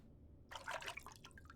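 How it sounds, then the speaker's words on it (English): Water added to a cooking pot of simmering food, a brief close splash and burbling pour followed by a few trailing drips in an otherwise quiet kitchen. "I think my mom would add water if that happened. Let's try that."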